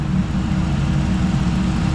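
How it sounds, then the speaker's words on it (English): A 2013 Ram Sport pickup's Hemi engine idles steadily with a low, even rumble, close and constant, with no talking. "this motor is actually, I mean, it's running pretty good"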